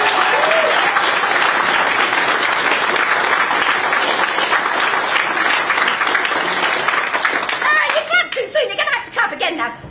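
Loud, dense audience applause for Green Party MPs at a party leadership election event, sustained clapping that thins into scattered claps and cheers toward the end.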